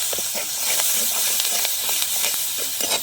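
Curry leaves and turmeric sautéing in hot oil in a home kitchen, a steady loud hiss and sizzle with small crackling pops throughout.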